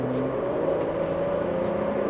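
A 2005 Hyundai Grandeur TG with a 2000cc engine that makes abnormally little power accelerates sluggishly, giving a steady, fairly quiet engine hum and whir with little rise in pitch over a brief stretch.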